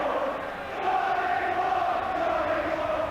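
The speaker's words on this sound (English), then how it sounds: "Johnny Walk is the crowd's chant, the travelling crowd's chant" Travelling football fans at an FA Cup third-round match between Birmingham City and Ipswich Town chant loudly and continuously, a broad sustained wall of massed voices filling the stadium.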